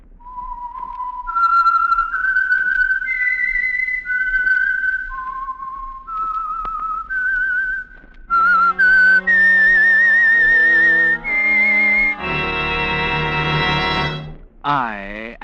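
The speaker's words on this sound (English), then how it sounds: "the signal to listen for is this whistle that identifies the Signal Oil program" A solo whistled melody of clear, sustained notes rising and falling, the signature of the old radio program The Whistler, followed by a brighter, more strident whistled phrase at the end.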